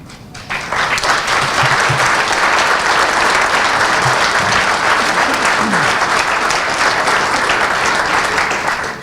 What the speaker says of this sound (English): these young people deserve a round of applause